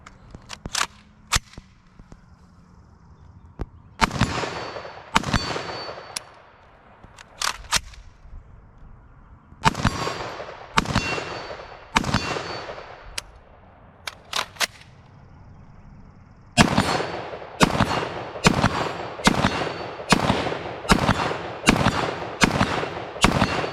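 An IWI Tavor X95 rifle firing steel-case ammunition: loud, close single shots with uneven gaps, then a quicker string of shots near the end, with no talking.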